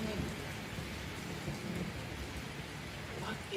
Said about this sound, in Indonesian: Petir. Mendung ya. Petir nih.